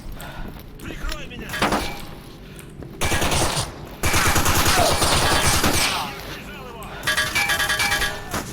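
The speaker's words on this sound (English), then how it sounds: "Why does everybody like shooting me" Bursts of rapid automatic gunfire in the video game S.T.A.L.K.E.R. come in loud, dense volleys separated by short pauses, with a voice speaking amid the shooting.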